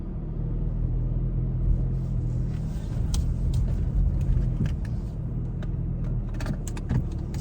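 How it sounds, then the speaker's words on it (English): Car engine idling just after being started, a steady low rumble close by with faint jangling and small clicks inside the cabin, no talking. "But how have I started the car?"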